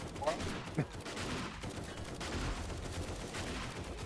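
Heavy gunfire in the video game 7 Days to Die rattles nonstop, overlapping bursts and single shots packed together in a loud, chaotic barrage.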